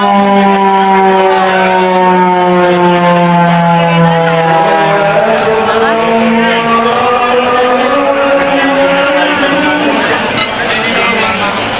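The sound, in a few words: siren signalling time to break the fast at mosque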